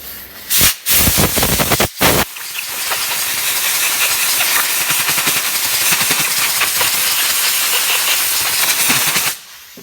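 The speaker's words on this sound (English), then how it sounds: "So we're just gonna use some brake cleaner here, Mikey." Brake cleaner sprayed from an aerosol can onto a stainless steel mesh filter from a Chevy HHR engine, a couple of short loud bursts followed by a long continuous close hiss that cuts off abruptly.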